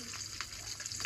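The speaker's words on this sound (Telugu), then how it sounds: "ఆయిల్ వేడెక్కాక పోపు దినుసులు వేయాలి" Tempering spices sizzle in three to four tablespoons of hot oil for a pumpkin stew, a soft, continuous crackle with small pops, faint and close.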